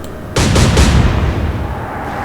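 Naval gunfire in the Atlantic Fleet video game, a loud close salvo of three rapid booming shots followed by a long rumbling decay, no voices.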